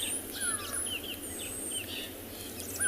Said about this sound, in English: there's birds making noise everywhere